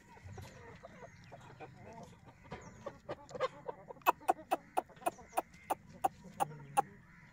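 Farmyard rooster and chicks, the rooster heavy-sized and about one and a half years old, clucking near a house; a steady run of sharp, evenly spaced clucks rises loud over soft scattered peeps and background bird noise.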